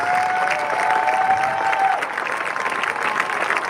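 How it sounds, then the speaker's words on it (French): A funeral congregation claps and cheers in sustained, dense applause close by, with a whistle ringing out over it early on and some voices blending into the crowd. "Tu acclames le Seigneur Jésus-Christ."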